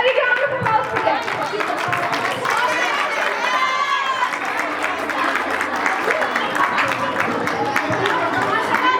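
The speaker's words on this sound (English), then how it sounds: "A big round of applause for them." An audience applauds and cheers a performance by Nadia and her friends, a sustained wash of clapping mixed with crowd chatter and voices that stays fairly loud the whole time.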